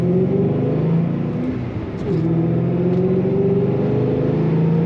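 A supercharged 2006 Ford Mustang Saleen S281 coupe engine hums steadily, then briefly dips and rises again as it revs, heard close and continuous throughout.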